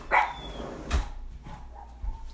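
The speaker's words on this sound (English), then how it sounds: "they certainly do like barking at nothing sometimes" A dog gives a single sharp bark followed by faint whimpering and small yips, fairly quiet and indoors.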